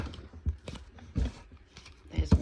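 Tarot-style oracle cards being shuffled by hand, a series of soft papery riffles and taps in irregular bursts, close to the listener, with a few louder slaps toward the end.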